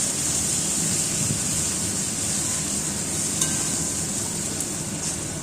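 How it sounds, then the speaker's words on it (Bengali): Spice paste being stirred and fried in a pan for a siphon fish curry, a steady close sizzle running throughout with faint scraping and a small clink. "মশলাটা দিয়ে একটু নেড়ে চেড়ে ভালো করে মিশিয়ে নিচ্ছি"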